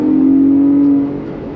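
A Ford Bronco Raptor driving in sport mode gives a steady, loud engine drone that holds for about a second and then eases off slightly, with no talking over it.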